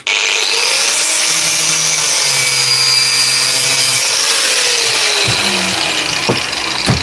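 A DeWalt drill set in screw mode whirs with its clutch slipping and ratcheting, a steady close mechanical buzz with a rising whine, ending in a few sharp clicks and knocks.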